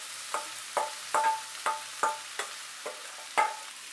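Soaked sago pearls and peanuts stirred in a pan, giving about eight spaced scraping strokes of a spatula with a light sizzle beneath, fairly quiet and close with no voices.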